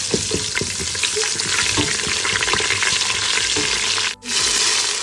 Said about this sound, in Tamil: பட்டை, கிராம்பு, ஏலக்காய், சின்ன சீரகம், பெரிய சீரகம், கூட ஒரு 2-3 பிரியாணி இலை சேர்த்துக்கலாம். அப்படியே வறுத்துக்கலாம்.